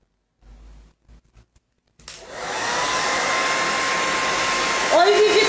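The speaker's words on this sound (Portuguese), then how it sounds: "Deixa eu pôr um pouquinho de secador." A hair dryer blowing on an MDF craft box decorated with biscuit-clay lace, switching on after a few faint knocks and then running as a steady, loud, close whoosh to the end.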